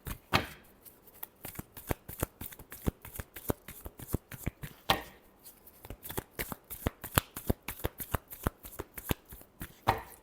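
Tarot cards are shuffled by hand in quick, crisp riffles and taps, a rapid run of sharp papery snaps repeating close up with no voices.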